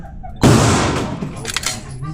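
A single sharp gunshot cracks out at close range, followed by a decaying boom and faint rattling echo, with quiet background noise before it.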